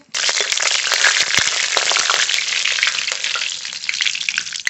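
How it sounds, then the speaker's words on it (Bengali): Black cumin and bay leaf tempering in hot mustard oil in a kadai, a loud, steady, bright sizzle with crackling pops that runs unbroken throughout. "ইলিশ মাছের জন্য ফড়ন করে নেব কড়াইতে সর্ষের তেল ফড়নে কালো জিরে তেজপাতা"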